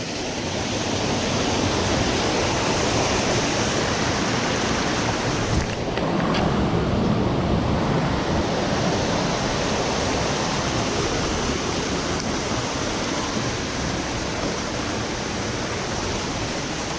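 A waterfall on a North Carolina backcountry trout stream roars close by as a dense, steady rush of falling water. No voices are heard, and the water noise stays even for the whole stretch.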